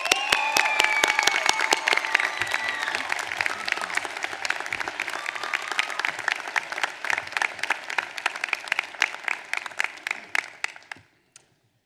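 Sustained applause from a commencement audience welcoming the ceremony's speaker, many hands clapping densely and loudly for about ten seconds, then thinning to a few scattered claps before stopping.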